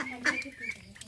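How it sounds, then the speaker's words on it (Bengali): Domestic ducks quacking as they feed on fresh rohu fish scraps, several short honking calls bunched close together, fairly near and moderately loud, with no speech. "হাঁসগুলি দেখা যায় রুই মাছের পাতি খেতে খুব ভালোবাসে।"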